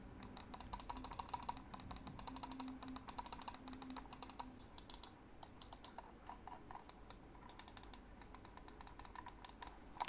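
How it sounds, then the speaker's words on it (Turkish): The buttons of a Rampage gaming mouse are pressed in quick succession, giving a dense, quiet series of small, crisp clicks close up that continues steadily. "Klik seslerini bir dinleyelim."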